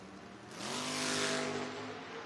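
An 86 Camaro and an 88 Mustang launch at a footbrake drag race, engines jumping from a steady rumble into a sharp, loud rising roar with a burst of broadband noise, then easing slightly as they pull away.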